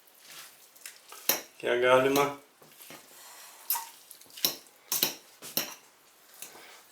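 Curd cheese being crumbled with a fork in a pot, with scattered scraping and clinking taps, one longer grating scrape, and brief talk at the start.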